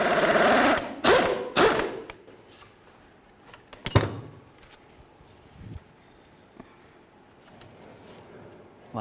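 An impact gun zips out wheel bearing bolts on a Jeep Compass rear knuckle, a few short sharp bursts close together at the start, then scattered clanks and knocks of tools and parts.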